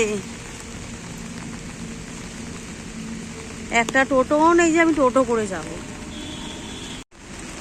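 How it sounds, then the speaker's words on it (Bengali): Steady rain falls on a deserted highway, a constant wash of patter throughout while someone talks over it. "বৃষ্টি হচ্ছে"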